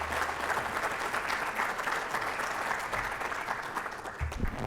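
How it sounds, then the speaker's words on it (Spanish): Audience at a book launch for a legal treatise at a Peruvian law school applauds steadily for nearly five seconds, a dense, even wash of clapping from a room full of people with no voices over it. "Recibamos con un fuerte aplauso"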